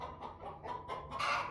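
Several hens cluck and squawk in a busy run during egg-laying hour, a steady burst of overlapping calls close by, with no talk.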